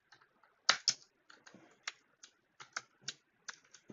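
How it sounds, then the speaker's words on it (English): Fingers typing on a German-layout computer keyboard, close and quiet, with irregular clusters of crisp key clicks and short pauses between bursts, no voices. "I'm using a German keyboard"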